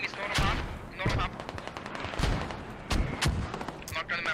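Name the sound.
mortar and gunfire in a video game battle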